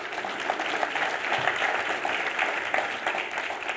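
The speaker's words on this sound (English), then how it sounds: "Give yourselves a round of applause for that." A large audience at a foundation summit claps, sustained dense applause at a steady moderate level throughout, filling the room with overlapping hand claps and light crowd murmur.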